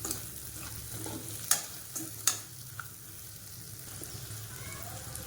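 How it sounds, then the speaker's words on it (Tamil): Ingredients for a tapioca and green gram curry sautéing in a pan with salt, a quiet continuous sizzle broken by a couple of sharp spoon clinks against the pan, heard close with no talk. "சேர்த்துட்டு நல்லா வதக்கிக்கலாம்."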